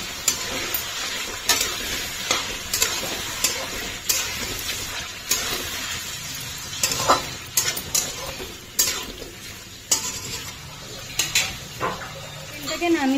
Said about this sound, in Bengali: চিকেনটাকে একদম ডিপ ফ্রাই করছি তেলে করে